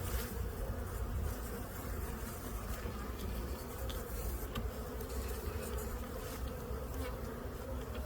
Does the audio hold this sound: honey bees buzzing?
yes